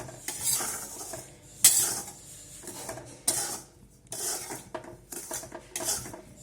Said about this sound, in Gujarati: આપણે સાકરને હલાવવાની છે